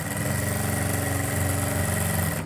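A sewing machine running steadily while stitching a lined organza kameez, a continuous close motor whir with a fast, even needle rhythm throughout and no talking.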